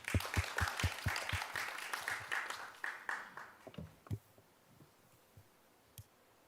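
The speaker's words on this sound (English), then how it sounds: "Please welcome him with a round of applause." An audience at an international conference greets the session moderator with brief, light applause that starts fairly close and then dwindles into scattered claps and quiet.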